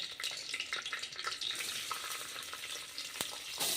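Onions frying in oil with cloves, cardamom, cinnamon, pepper and bay leaf for tomato rice make a fairly faint, busy crackle and spatter, with one sharp pop late on and no talking.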